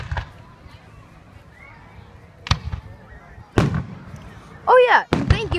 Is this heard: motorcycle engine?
no